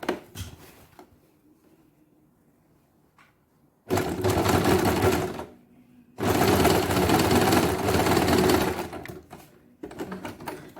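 A sewing machine stitches durag fabric in two sustained bursts of rapid, loud whirring, separated by quiet pauses and followed by a short final run, close and alone.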